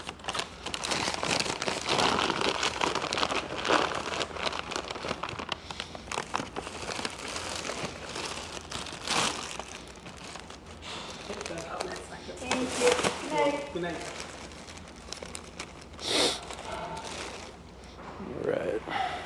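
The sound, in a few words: folding a food delivery package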